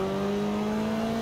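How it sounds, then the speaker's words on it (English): A 1994 Toyota Celica WRC rally car in Forza Horizon 4 gives a steady engine tone with a faint whirring turbo build-up, held evenly throughout and heard without talk. "We can hear the turbo build up a little bit"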